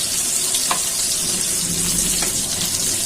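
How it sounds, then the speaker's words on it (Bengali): Pointed gourd (potol) slices frying in oil in a pan, giving a steady, close sizzle with constant crackling hiss and a couple of faint clinks. "যে এক পিঠ সুন্দর মতো ভাজা হয়ে গেছে।"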